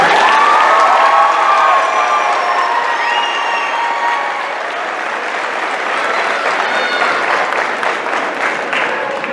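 Loud, dense applause fills the hall at the Parkview eighth grade graduation, a big crowd clapping steadily for the graduates, with cheering and excited voices mixed in and no break over the full stretch.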